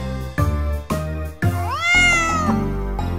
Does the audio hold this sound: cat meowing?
yes